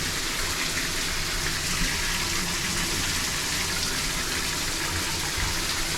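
A hot shower runs steadily in a Carnival Paradise interior cruise ship cabin, a constant close hiss of spraying water without pause.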